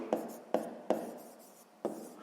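Pen writing on paper while working a sixth-grade maths exercise, with four quiet, distinct scratchy strokes spaced unevenly across the clip.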